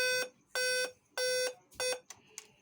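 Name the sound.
Dell Vostro 3458 laptop giving 8 beep error code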